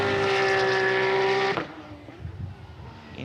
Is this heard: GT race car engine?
yes